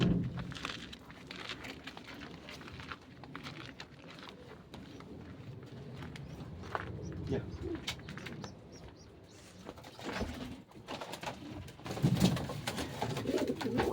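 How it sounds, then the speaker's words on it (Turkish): Pigeons coo repeatedly at close range amid a busy background of rustling and shuffling, with a louder burst of cooing near the end. "Bir bakın nasıl çeviriyor kuş. Sesi soluğuna bir bakın."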